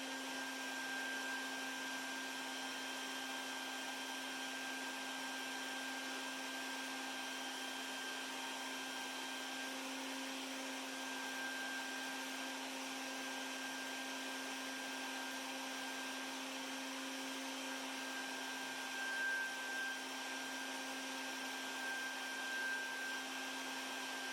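A Dust Deputy drywall dust system runs with vacuum suction, giving a loud, steady, unbroken whine that holds evenly for the whole stretch, with no voices.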